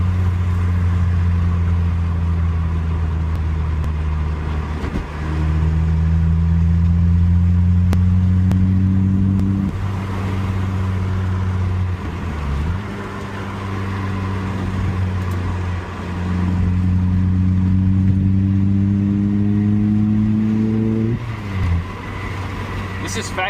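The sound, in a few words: car engine revving through factory exhaust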